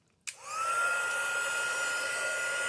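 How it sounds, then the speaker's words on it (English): After a brief click, a heat embossing tool starts up and blows hot air over gold embossing powder on a handmade card, holding a steady close whirring hiss with a faint rising whine. "Then I'm going to take my heat embossing tool,"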